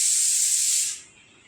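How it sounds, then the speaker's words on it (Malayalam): A pressure cooker on a gas stove lets out a loud, steady hiss of steam that cuts off abruptly after about a second, leaving a faint residual hiss. "എൻ്റെ കുക്കറിൻ്റെ സൗണ്ട് കേൾക്കുന്നുണ്ട്."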